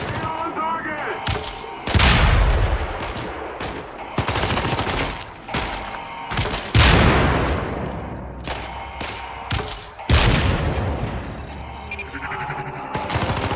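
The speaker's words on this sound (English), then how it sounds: "This is the TAR assault rifle with underslung grenade launcher." Video game gunfire from a TAR assault rifle with an underslung grenade launcher in Syndicate, heard as repeated loud bursts of automatic fire with heavy booming blasts every few seconds, layered over a continuous game soundtrack.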